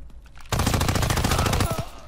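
Rapid automatic SMG fire with heavy recoil in a first-person shooter, a loud dense burst starting abruptly after a short quiet lead-in and holding steady for well over a second before tapering.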